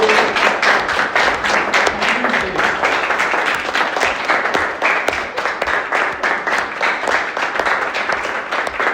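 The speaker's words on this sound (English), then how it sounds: "Please, can we have a big round of applause for them?" An audience at a session applauds, sustained clapping from many hands at a steady, brisk rhythm, fairly close and even, with no talk over it.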